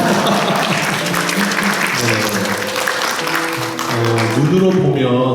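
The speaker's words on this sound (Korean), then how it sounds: "모두를 위해서 한번 박수 한번 할까요?" A church congregation breaks into sustained applause during a Sunday worship service, a dense steady clapping from a full room with a voice briefly heard over it.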